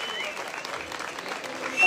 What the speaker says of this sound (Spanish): Gracias por esos aplausos, gracias.